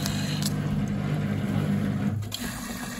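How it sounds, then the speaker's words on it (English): A Bosch WFF1401 washing machine, just fitted with new bearings and set to a 30-degree easy-care short wash, takes in water with a steady rushing flow over a low mechanical hum, close by and without speech. "It should take in some water, needs some soap."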